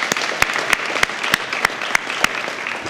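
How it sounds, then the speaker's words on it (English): Crowd applause for University of South Carolina Dance Marathon students at a Dance Marathon Day proclamation, a steady close wash of clapping cut by sharp, evenly spaced louder claps throughout. "we want to give another round of applause for the great efforts of the University of South Carolina students"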